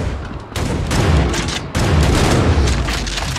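Heavy booming gunshots in the action shooter Hellbound, two or three loud blasts with rumbling tails, close and forceful, in quick succession.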